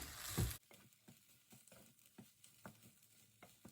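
Egg fried rice with tinned pineapple is stir-fried in a pan, with soft sizzling and repeated scraping stirs after a brief loud clatter at the start.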